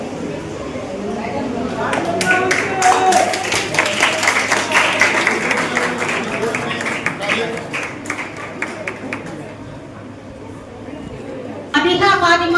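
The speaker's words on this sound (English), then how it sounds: "Take a round of applause." Applause at a science exhibition prize ceremony, irregular clapping from a crowd building and thinning over several seconds, with a voice speaking amid it and a fresh burst of claps at the end.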